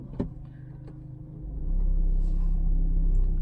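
A Ford Freestyle Titanium diesel crossover pulls away in first gear, a brief clunk followed by the engine's deep rumble swelling and holding steady as the car gets moving, heard from inside the cabin.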